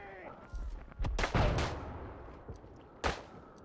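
Flare gun fired in the World War I shooter Isonzo amid battlefield noise, with several sharp, echoing reports spaced apart, the loudest cluster early on and another distinct crack near the end, over a rumbling background.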